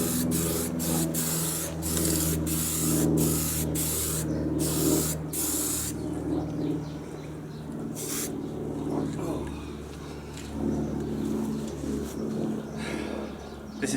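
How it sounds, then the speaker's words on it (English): Repeated short hisses of spray paint near the start, then intermittent longer sprays, with faint bird cooing in the background. "This is called spray painting in your pajamas."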